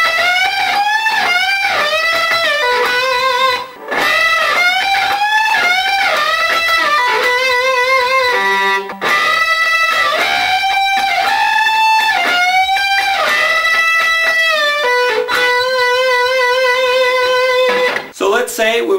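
An electric guitar plays a lick of double-stops with bent notes, loud and up close, with pitches sliding up into place over a continuous phrase.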